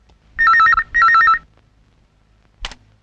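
A telephone bell rings in two loud, trilling bursts against a quiet room, followed by a brief thump near the end; no one speaks.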